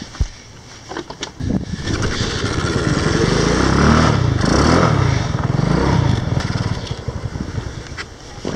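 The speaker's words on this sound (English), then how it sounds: "I'm gonna have to start my bike again and go and find her." A motorcycle on the Trans America Trail kicks into life after a few clicks, its engine rising into a loud, close running rumble for several seconds before easing off, with wind buffeting the microphone.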